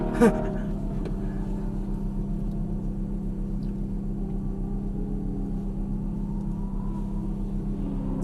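A Ferrari F430 engine on a busy race track holds a steady, low, droning rumble close to the listener, with a faint voice briefly at the start.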